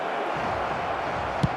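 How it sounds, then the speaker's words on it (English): A stadium crowd in the eFootball 2026 football game produces a steady, broad murmur of distant fans, continuous and fairly even, with one brief louder thump. "Maybe the crowd will stay a little quieter next time."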